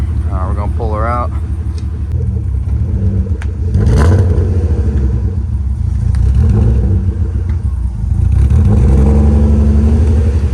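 A BMW E36 running a little rough rumbles nearby as it pulls out, its engine swelling in a couple of revving surges over a steady idle, with voices talking over it at the start.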